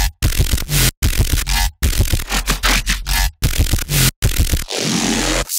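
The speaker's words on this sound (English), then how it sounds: "we want our bass to duck in time with our kick and our snare" A dubstep bass in Ableton pumps hard under sidechain compression, its loud gritty tone cutting out in sharp rhythmic gaps each time the kick and snare land. A noisy sweep closes the phrase.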